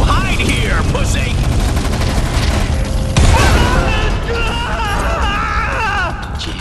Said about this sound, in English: the explosions are really close